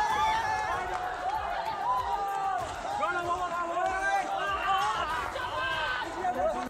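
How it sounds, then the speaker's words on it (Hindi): Protesters surge into the Prime Minister's residence in Dhaka, a dense crowd of shouting, overlapping voices and running commotion filling the space at a steady, loud level. "ढाका में प्रधानमंत्री आवास के अंदर घुसी भीड़ दौड़ते हुए आगे बढ़ी।"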